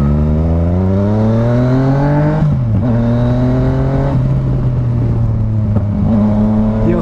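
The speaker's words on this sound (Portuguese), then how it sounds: "do barulho que essa moto faz" A Yamaha MT-09 motorcycle engine revs loudly and continuously, its pitch climbing, dipping, then rising again in repeated throttle pulls, close up with no talking.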